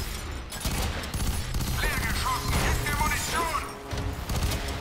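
Dense video-game gunfire from F.E.A.R. 3 crackles in continuous overlapping bursts, mixed with whining and metallic game effects and a steady loud rumble.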